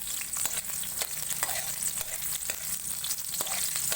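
Onion sautés with sardines and moringa pods in a pan, giving a constant bright sizzle and crackle close up, broken by scattered scraping ticks from stirring.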